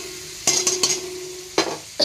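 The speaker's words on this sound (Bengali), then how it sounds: "দিয়ে আবার একটু কষাবো, 1 মিনিট মতন কষিয়ে নেবো।" Gobindobhog aromatic rice stirred and sautéed in hot spiced oil, a low steady sizzle broken by a few scraping stirs near the start and two more near the end, no voices.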